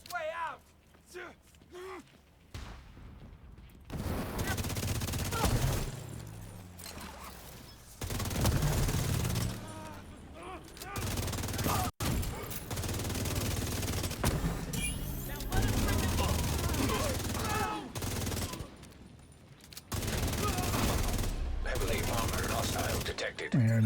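Sustained automatic gunfire rattles in long bursts while enemies are shot in a video game, loud and close, broken by short pauses, with someone talking over much of it.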